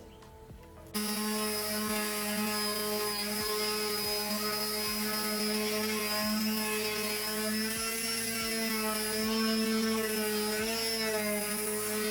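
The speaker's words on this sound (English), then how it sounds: "This is my mouse sander, my detail sander. I'm going to use this. This is P180." Mouse detail sander working furniture with P180 sandpaper, a steady high-pitched motor whine with a rough grinding texture, starting after a quiet second and running continuously near the listener.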